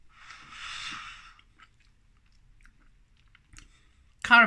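Quiet, close crunching and chewing of a nutty Quality Street chocolate comes in a short burst, followed by faint mouth sounds and a brief voice at the end.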